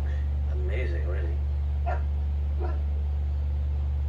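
A dog in the fantasy role-playing game Dragon Age: Origins gives a few short barks and yips in brief bursts, heard over a constant low game hum.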